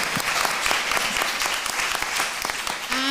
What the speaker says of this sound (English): please give a final round of applause to our fantastic speakers.